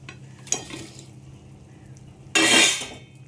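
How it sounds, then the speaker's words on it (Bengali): Tangra fish go one by one into a boiling curry, bringing a brief clink, then a loud burst of sizzling and bubbling that fades, with no voices. "এবার আমি আস্তে আস্তে করে এক এক করে মাছগুলিকে দিয়ে দেবো।"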